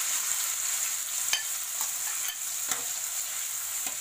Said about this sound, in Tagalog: Next, ilagay na natin yung ating tofu. Ipiprito natin siya.